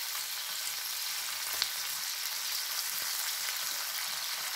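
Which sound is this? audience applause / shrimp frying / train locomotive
shrimp frying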